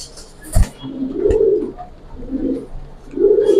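Silver pigeons cooing close by in a series of soft, low, rounded coos with short pauses between them, and a couple of brief sharp knocks or flaps in between.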